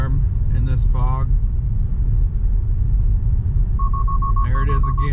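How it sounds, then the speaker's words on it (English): A Tesla's autopilot takeover-immediately alarm sounds in fog, a series of quick evenly spaced beeps near the end over steady road rumble, with someone talking briefly beforehand. "I did just get the takeover immediately alarm in this fog"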